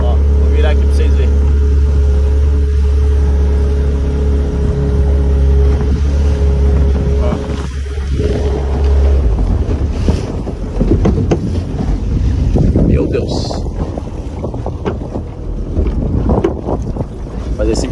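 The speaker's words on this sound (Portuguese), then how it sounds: "tô sozinho na mini lancha" A small motorboat engine drones loudly and steadily out at sea, heavy wind buffeting the microphone and water splashing as the boat moves.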